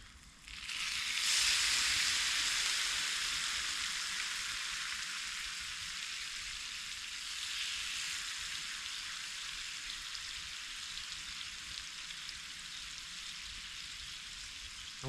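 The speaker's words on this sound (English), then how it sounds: "Let's put some whiskey in the potatoes." Potatoes sizzling in a pan with whiskey over a camp fire while tarp camping in a Swedish forest; a loud hiss bursts up as the liquid hits, then settles into a steady crackling fry, with no talking.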